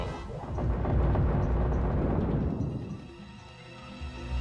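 A big explosion from the Judgment rune spell in the role-playing game Suikoden, a loud, heavy rumbling blast that swells and roars for a few seconds before fading into a quieter lingering tail.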